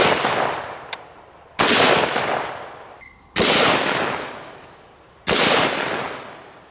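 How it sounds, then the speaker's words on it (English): Four loud, close gunshots from an FN SCAR 17 rifle chambered in .308, firing 150-grain full metal jacket rounds, come at spaced intervals, and each one rings out and decays. "Now let's hit it with our Effin Scar 17 chambered in 308, and we'll be loaded up with some 150 grain full metal jackets."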